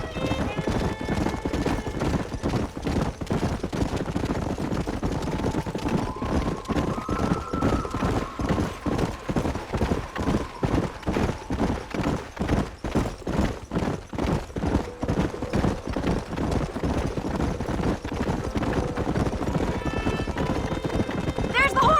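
Horse hooves clip-clop in Red Dead Redemption, a fast, steady galloping rhythm of many hoofbeats running loud and continuous throughout, with an occasional whinny and brief tonal game sounds layered over it.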